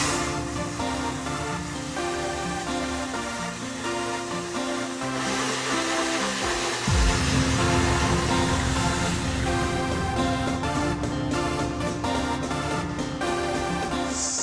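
Abrasive blasting of painted police handcuffs, a continuous loud hissing rush of air and grit that shifts and intensifies partway through, steady and close with no talk.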